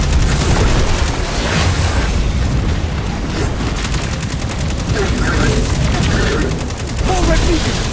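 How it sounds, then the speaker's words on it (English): Missiles strike in the Destiny 2 beta on PS4, setting off a loud, dense barrage of booms and rapid gunfire that rolls on without a break. "Missiles! Stay inside my shield!"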